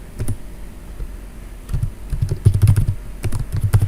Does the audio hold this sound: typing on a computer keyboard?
yes